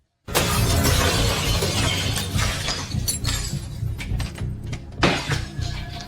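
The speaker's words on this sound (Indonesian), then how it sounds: "Satu pria yang memecahkan kaca rumahnya membuat Anna ketakutan" Glass shatters loudly all at once, followed by a long spill of tinkling shards and debris, with another crash near the end.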